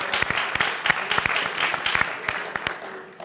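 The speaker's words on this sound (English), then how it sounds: "Round of applause for everybody." An audience at a college elevator-speech event applauds its participants with brisk, fairly close clapping that thins out and fades toward the end.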